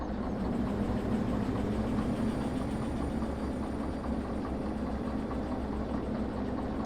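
A locomotive engine in the train simulator Derail Valley idles and rumbles steadily at low volume, a constant droning hum with no voices.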